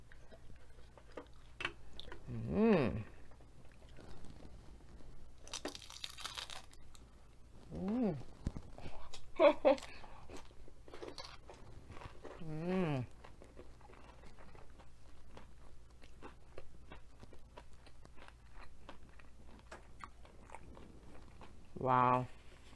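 Close chewing and crunching of nachos with cheese at a mukbang, with intermittent bites and soft mouth sounds separated by quiet pauses.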